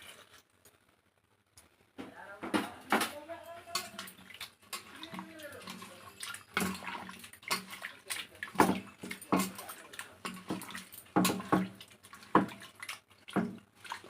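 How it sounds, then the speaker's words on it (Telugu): Water splashes and trickles into a pot of mutton heart with chili powder, turmeric, curd and salt, a few bursts of pouring and stirring amid soft clinks, with a little talk. "వాటర్ పోసేసుకోండి"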